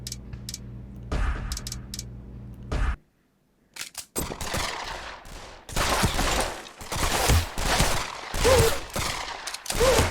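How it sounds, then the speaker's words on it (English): A video game shooter played against bots, with loud close bursts of automatic gunfire and bullet explosions crackling in rapid clusters after a short silent break, a brief sharp shot or two early on. "the explosions of the bullets, and this is really much more immersive than just playing it without the SubPac"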